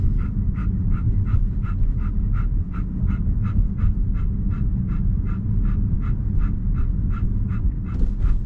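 A dog with laryngeal paralysis pants steadily in a rapid, even rhythm of short raspy breaths, close to the mic, over a constant low rumble of a moving vehicle.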